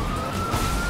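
Police car siren in a driving video game, a steady high electronic wail holding at a fairly loud, even level, with the game's engine noise underneath and no talking.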